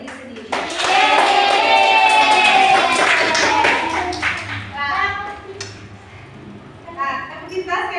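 A group of students in a classroom clap for themselves in a sustained burst of applause, loud and close, then fading into scattered claps amid lively chatter and voices.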